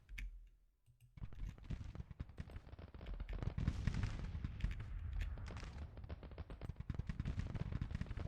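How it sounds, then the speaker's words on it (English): Confederate Louisiana batteries of 24-pound howitzers firing in the Civil War strategy game Grand Tactician, a rapid run of sharp, distant-sounding cannon reports and crackling bursts after a short quiet start. "Louisiana batteries are firing"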